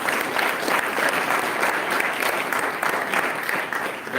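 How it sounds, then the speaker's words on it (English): Steady applause from a class audience during a powder coating technology lesson, honouring a student's correct answer; a dense, even wash of many hands clapping, close and sustained throughout. "Please make a clap for him."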